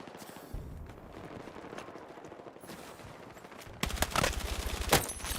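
Rapid gunfire from a heavy-recoil gun in Helldivers, starting as steady bursts and turning into a louder, harsher volley near the end, with no speech.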